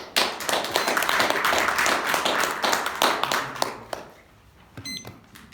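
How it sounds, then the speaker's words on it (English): A crowd at a Toastmasters meeting claps loudly together, a dense burst of applause that tapers off after about four seconds, followed by a quiet moment. "please welcome a round of applause, Ian."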